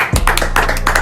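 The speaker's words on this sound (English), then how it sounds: "Round of applause, everybody." A short burst of hand clapping from a few people, loud and close, with a low hum underneath.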